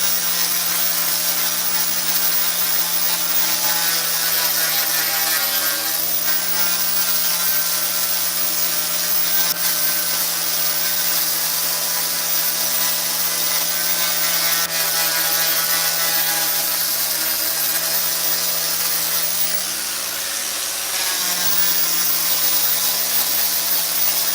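A grinder touches up an Axis deer hide, giving a continuous loud whirring drone with a steady hum throughout and slight shifts in pitch as it works.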